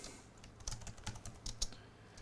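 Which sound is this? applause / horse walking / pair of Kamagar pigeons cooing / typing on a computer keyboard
typing on a computer keyboard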